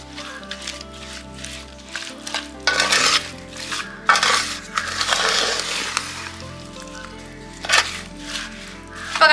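Mango pickle ingredients are stirred together in a pan with loud, irregular scraping and clattering bursts of a spoon against metal, separated by quieter gaps.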